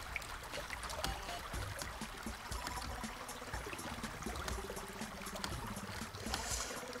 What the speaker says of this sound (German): Da links ist viel Wasser.